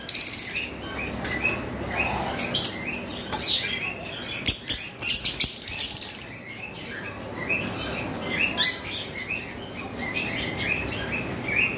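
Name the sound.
pair of pet birds chirping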